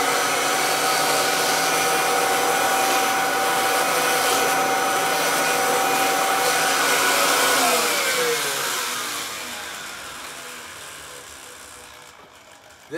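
A Kirby vacuum cleaner with an attachment runs as a loud, steady, close whine that drops in pitch and fades as the motor spins down near the end, with no talking.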